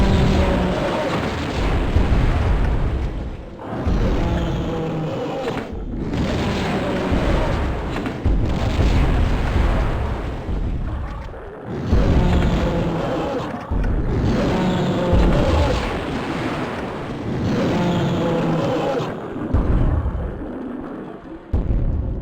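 In the video game Tomb Raider II, a grenade launcher fires round after round, each shot landing as a loud, deep explosion with a rumbling tail. About eight blasts come at a steady rhythm under faint background sound.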